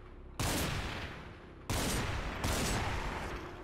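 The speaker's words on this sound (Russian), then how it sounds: "4 выстрела понадобилось, чтобы уложить этого зомби" Shotgun fire from a Remington in the video game Cataclysm: DDA, taking down a zombie with three sharp, booming blasts in quick succession, each ringing out and decaying before the next.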